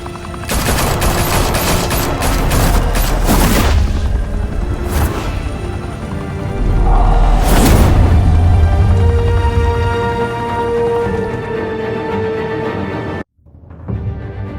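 Sustained automatic gunfire in Batman: The Telltale Series, loud and close, with heavy overlapping volleys and sharp peaks, then an abrupt cut to a brief quieter moment.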